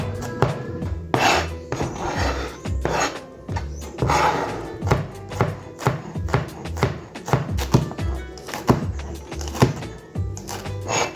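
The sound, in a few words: chopping vegetables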